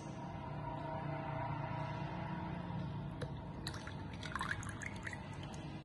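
Oil being poured into a glass tumbler containing baking soda, a low gurgling trickle followed by a few light splashes and drips near the end.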